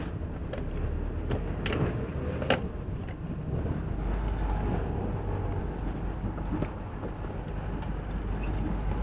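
Small boat pushing off from a dock near Convoy Point in Biscayne National Park, with a low motor rumble under gusty wind buffeting the microphone, scattered knocks and creaks, and no voices.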